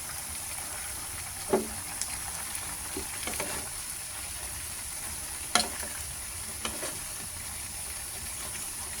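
Chicken adobo with string beans fries in a pan with a soft, steady sizzle, broken by a few sharp scraping knocks as it is stirred.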